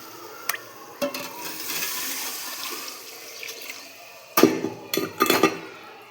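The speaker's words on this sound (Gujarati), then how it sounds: "પછી એમાં પાણી એડ કરી દઈએ." Water poured into a pan of masala spices while preparing Maggi noodles, a steady splashing gush that runs through the middle, followed by several sharper clattering bursts near the end, with no talking.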